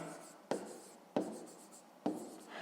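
Pen strokes on paper during a math lesson, three distinct scratchy bursts each fading over about half a second, close and quiet with no talk over them.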